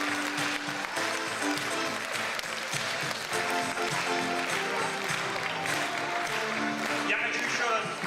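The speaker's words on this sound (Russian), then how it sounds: "Что вы так вяло аплодируете?" An audience at a school's last-bell awards ceremony claps steadily throughout, a dense even patter of applause without strong swells, with a voice speaking over it.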